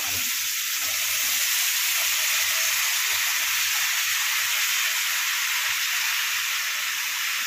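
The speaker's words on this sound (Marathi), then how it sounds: "तर आता आपण सगळ्या भाज्या ह्या हळदी मिठामध्ये आणि तेलामध्ये छान फ्राय करायच्या आहेत" Mixed vegetables fry in hot oil with turmeric and salt in a kadhai, giving a steady, loud, close sizzle that hisses evenly without a break, with faint stirring underneath.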